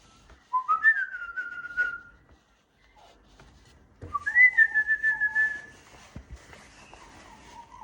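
A person whistles two clear, warbling melodic phrases to a bird, each lasting a second or two, with a short quiet gap between them.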